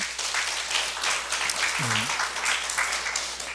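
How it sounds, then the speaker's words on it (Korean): A church congregation applauds during a Korean sermon, a continuous wash of clapping heard at a moderate distance, with a brief voice rising through it midway. "주님께 박수로 영광 돌립시다."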